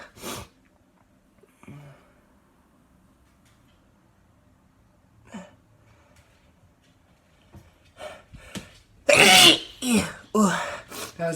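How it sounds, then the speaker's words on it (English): Several sneezes burst out amid snorting and breathing, starting with faint sniffs and quick huffs, then building to a cluster of loud, forceful sneezes near the end. "Let's keep going, see if we can get a bit more sneezes in here."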